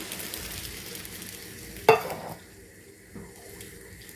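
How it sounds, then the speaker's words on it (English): Tomato sauce with water is stirred in a pan during batch cooking, with soft scraping and a quiet simmering sizzle, a sharp clack of the utensil against the pan partway through, then calmer stirring. "Stir it all together carefully."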